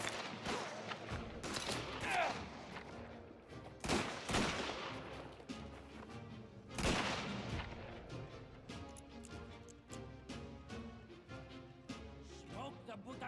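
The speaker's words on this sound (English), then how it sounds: "Just keep shooting!" Video game gunfire rattles in dense, repeated bursts with several heavy booming shots, loud and close throughout, while a player talks over the shooting.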